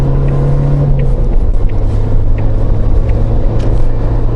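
A new Suzuki Jimny in third gear pulls onto the motorway, its engine a loud, steady low rumble with road and wind roar filling the cabin throughout, no one speaking.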